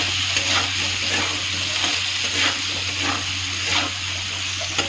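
A spoon stirs soybean curry seasoned with turmeric, salt and a little sugar in a frying pan, giving a constant sizzle with soft periodic scraping swells under a low steady hum.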